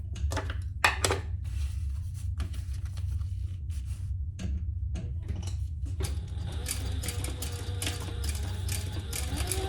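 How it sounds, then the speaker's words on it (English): A sewing machine top-stitches the side panel of a pouch, giving rapid mechanical ticking and clattering bursts that settle into a continuous busy whir in the second half, close and moderately loud. "we're top stitching on the side panel"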